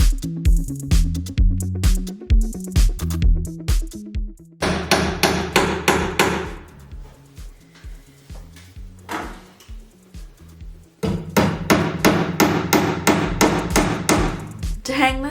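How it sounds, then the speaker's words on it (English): Nails are hammered into the wooden wall studs of a garage, with long runs of rapid, loud, close hammer blows separated by a quieter pause. "To hang this, I'm hammering some nails into the studs of my garage."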